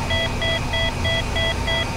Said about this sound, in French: Ah, elle m'énerve cette alarme.